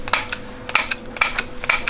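A stapler fires staples in quick sharp clicks, about half a dozen snaps in loose irregular bursts, close and crisp against a quiet background.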